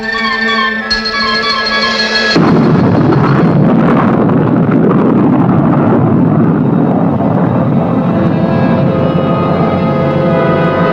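A Hawk air defense missile launching during a simulated intercept: a steady tonal whine gives way to a sudden loud roaring blast that carries on as a broad, sustained rushing roar.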